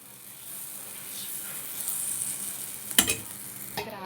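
Adai batter being spread with a flat ladle across a hot griddle for crispy Thanjavur orappu adai, a soft rising sizzle with scraping, then two sharp metallic clinks near the end.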